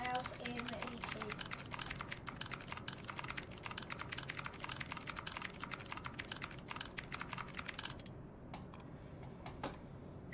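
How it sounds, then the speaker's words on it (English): Rapid, steady clicking of a computer mouse and keyboard key during a Roblox game, a dense continuous patter of clicks over game sound that drops away near the end. "Spam clicking on the mouse and the E key."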